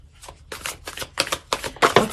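Tarot cards are shuffled in a series of about six quick riffling bursts, crisp and close, with short pauses between them and the bursts growing louder toward the end.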